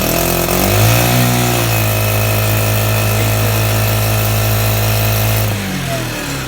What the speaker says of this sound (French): Je vais déjà le démarrer comme ça.